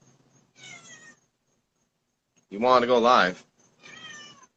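A feral cat meows once, loud and drawn out with a rising, wavering pitch, close by, between two short stretches of a person talking.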